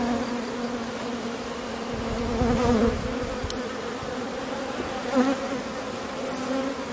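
Honeybees buzz steadily at close range while an artificial swarm is being made from a hive, a dense continuous drone that swells slightly at moments, with no talking.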